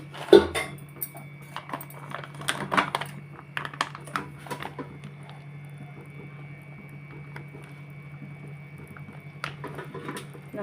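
A spoon stirring food in an oiled pan on a low gas flame, with a burst of clattering scrapes early on, then quieter irregular scraping and taps over a steady low hum.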